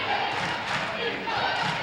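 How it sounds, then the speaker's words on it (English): A dense basketball arena crowd of Gannon fans roars a sustained defensive cheer through a PSAC semifinal game, loud and continuous with faint thuds underneath. "You can hear all the Gannon fans cheering defense."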